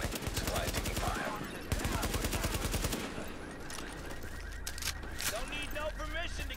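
Automatic gunfire in The Division around Times Square: dense, rapid bursts that stay loud and continuous, easing slightly midway, with game voices and effects mixed in toward the end.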